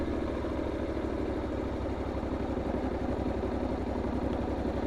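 A Honda NC750X motorcycle engine chugging in second gear on an icy mountain road, a steady low rhythmic thrumming pulse heard close and continuous with no talk.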